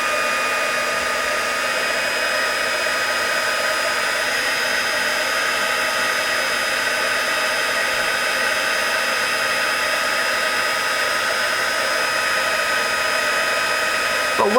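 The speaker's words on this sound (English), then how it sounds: "grab my heat gun. Takes it a second to heat up." Heat gun blowing hot air, a loud, steady close whoosh with a constant whining tone that holds unbroken for the whole stretch, with no talk over it.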